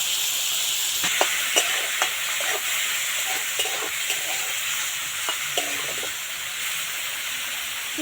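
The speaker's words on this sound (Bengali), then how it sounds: "ভাজা ভাজা করে নেবো চিংড়ি মাছটা" Prawns fry in mustard oil with salt and turmeric in a pan, a loud steady sizzle and hiss punctuated by repeated light scraping and stirring clicks, with no talk.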